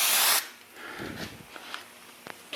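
A loud burst of aerosol spray on a Chevy S10 frame hisses for under half a second, then gives way to quiet scraping and small taps.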